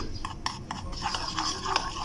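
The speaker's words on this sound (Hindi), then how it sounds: "अब हम इसको अच्छे से मिक्स कर लेंगे।" Spoon stirring biscuit batter for homemade cumin (zeera) biscuits in a bowl, a soft scraping and clinking run of strokes at a steady close pace, fairly quiet, with no talk over it.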